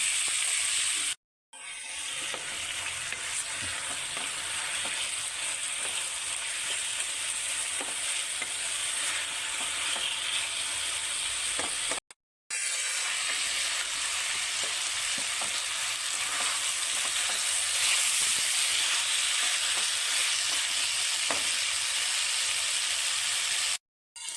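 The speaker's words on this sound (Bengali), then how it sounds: "ভেজে রাখা বেগুন আলু আর পেঁপের ভাজাটা দিয়ে দিচ্ছি দিয়ে এবার কিছুক্ষণ আমাকে নাড়তে হবে" Fried eggplant, potato and papaya are stirred in a hot pan, giving a steady loud sizzle and hiss with scraping stir sounds throughout, broken by two short silences.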